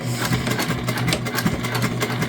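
A sewing machine runs steadily while top stitching a tote bag, its fast even needle rhythm close and continuous with a low motor hum throughout.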